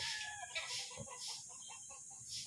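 Spangle stag chickens on a gamefowl farm cluck in a steady mid-level chorus, with several birds overlapping and calling repeatedly throughout.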